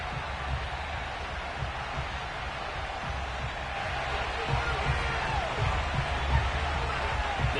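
Crowd noise at FedEx Field in an EA Sports NFL football game ahead of a Week 11 matchup against the Jacksonville Jaguars, a broad steady murmur with low thumps, carrying under a commentator's voice.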